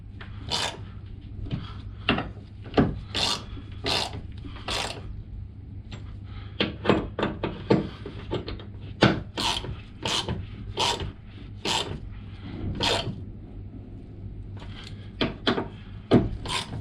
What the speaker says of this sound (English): don't forget to tighten up this free T30 screw.